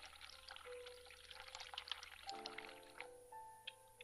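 Hot water runs from a tap in The Cat Lady horror adventure game, a steady pouring and splashing stream with faint dripping, quiet and continuous, and a low tonal hum enters partway through.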